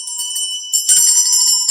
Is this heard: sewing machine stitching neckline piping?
no